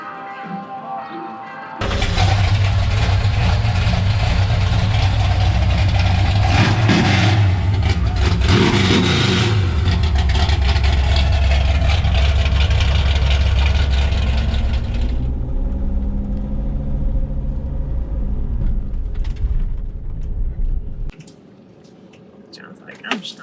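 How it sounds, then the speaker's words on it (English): A new 572 big-block engine roars loudly with a sustained revving run for about thirteen seconds, then drops to a lower rumble before cutting off near the end; voices mix in at times. "That's a new 572 engine."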